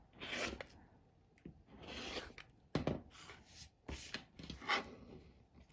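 Rotary cutter trimming the edges of a quilt block against a Tucker Trimmer ruler, several short separate scraping swipes with pauses between them, quiet and close, no voices.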